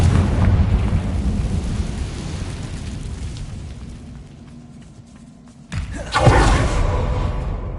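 A Confringo blasting-curse explosion in Hogwarts Legacy: a rumbling blast that decays into a fading tail, then a sharp second burst with a booming roll.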